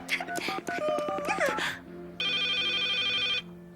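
A telephone rings in a long steady electronic trill after a burst of busy tonal sounds, a doctor being called urgently.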